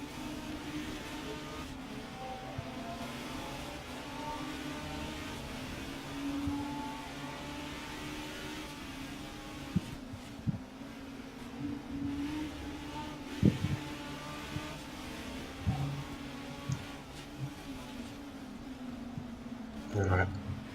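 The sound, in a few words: touring car engines racing in the video game RACE 07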